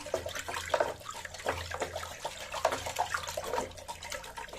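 Stirring an orchid thrips treatment solution into about three litres of warm water, giving irregular close sloshing and swirling splashes in quick bursts, with no talk.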